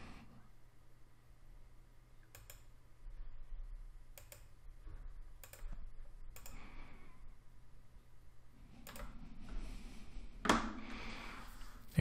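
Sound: typing a PIN on a keyboard for Trezor wallet

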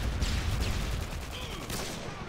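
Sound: FAMAS rifle gunfire in Modern Warfare 2 video game

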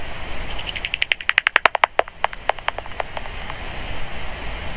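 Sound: bat calls heard through a bat detector

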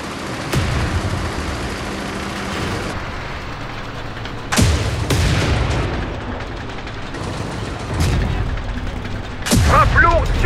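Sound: AMX-30 tank cannon fire in the video game Tank Company

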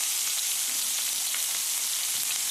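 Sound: garlic sizzling as it is added to hot oil

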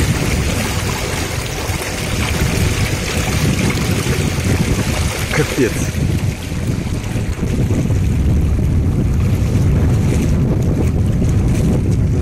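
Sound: rough churning sea

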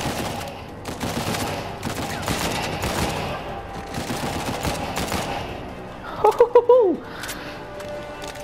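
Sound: gunfire in the video game Uncharted 4

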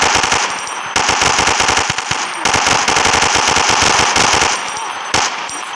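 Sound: gunfire from a Minecraft gun mod, video game

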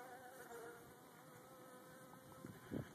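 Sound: honey bees buzzing during hive installation

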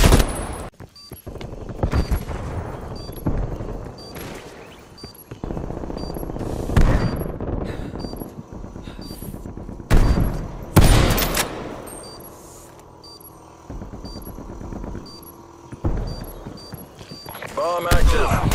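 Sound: gunfire in the video game Call of Duty Black Ops Cold War

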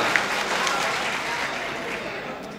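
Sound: audience applauding a ghazal at a mushaira

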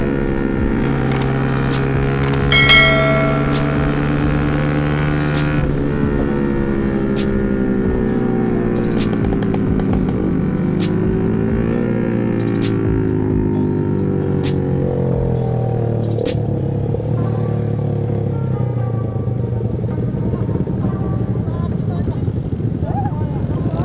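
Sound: motorcycles speeding on a night ride

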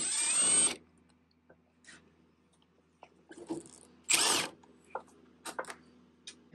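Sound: power tool removing 7/16 bolt from Ford Bronco door

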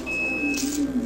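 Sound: smoke detector beeping

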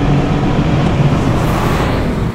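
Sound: classic car engine accelerating

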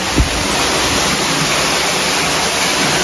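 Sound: water flowing over rock

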